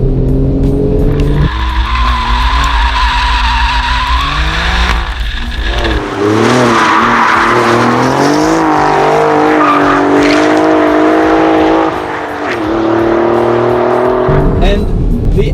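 Alfa Romeo Giulia Quadrifoglio driven hard with electronics off and a 6-speed manual, tires squealing in long wavering screeches over loud revving engine, with shifts and brief dips in power.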